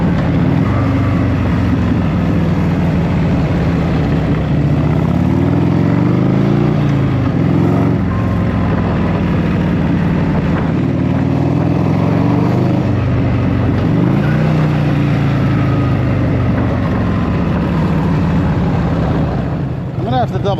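A 1984 Harley-Davidson motorcycle engine running close by, a loud, steady rumbling drone that holds without a break the whole time.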